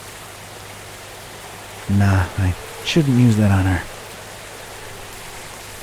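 Steady rain falls in the Cthulhu adventure game Gibbous, a soft even hiss running the whole time while someone speaks briefly over it.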